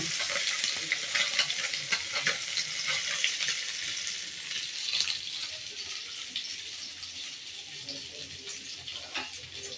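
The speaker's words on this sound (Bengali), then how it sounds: "জানি না কীভাবে কড়া করে ভাজবো কি হালকা করে ভাজবো" Food frying in a pan gives a continuous close sizzle and crackle with light stirring scrapes, fairly quiet and without talk.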